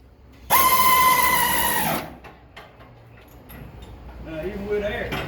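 An air impact wrench hammers a bolt tight on a 2000 Chevrolet Silverado drop-shackle job, one sustained loud burst of about a second and a half, followed by quieter shop noise.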